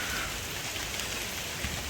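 Heavy monsoon rain pours steadily around farm fields, a dense, even hiss that stays loud and unbroken with no voices.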